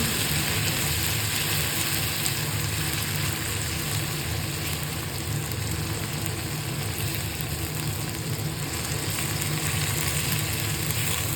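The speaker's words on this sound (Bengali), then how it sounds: "এবার যতক্ষণ না মশলার একটা কাঁচা গন্ধ বেরোচ্ছে ততক্ষণ এটাকে একটু ভালোভাবে কষিয়ে নেব" A ginger, garlic, chilli and tomato spice paste frying in a pan for an egg curry, a steady, even sizzle and hiss running continuously throughout without pause.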